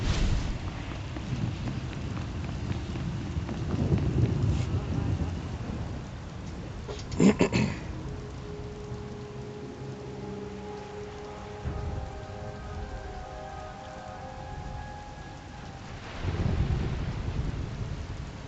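A rainstorm in Star Wars: The Old Republic hisses steadily, broken by a sharp thunderclap near the middle and low rumbling thunder at the start and end.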